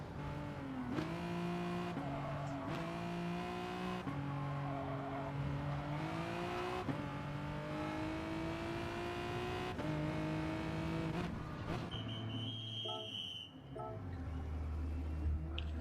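Group 4 steel-bodied sports cars racing on a track in a racing video game: a continuous loud engine whine climbs and drops through gear shifts, and tires squeal briefly near the end.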